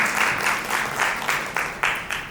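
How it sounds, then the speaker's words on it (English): Crowd applause for a panelist taking the stage at a CSR policy panel, continuous clapping from a seated audience with rhythmic surges, moderately loud and without speech. "Can we have a huge round of applause for him?"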